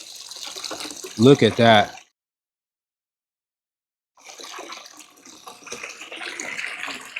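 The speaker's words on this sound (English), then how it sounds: "That's a lot of water coming out of it." Water gushes out of a Jesimaik cordless pool vacuum in a steady, close splashing flow. A brief spoken remark comes first, then a gap of silence before the pouring resumes and continues to the end.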